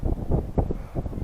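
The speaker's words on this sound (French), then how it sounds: "Parce qu'il y a beaucoup de vent." Strong wind gusts at a fishing spot buffet the microphone in a steady low rumble with uneven surges. No other clear sound rises above it.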